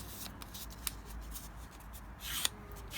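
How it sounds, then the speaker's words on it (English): A paper post-it note is folded in half nearby, with faint, quiet rustling followed by a couple of soft creasing taps, heard alone in a quiet room. "And I'll fold my post-it note in half."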